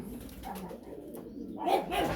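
Soft, low coos from Hungarian giant pigeons repeat faintly over quiet background rustle, with a slightly louder burst toward the end.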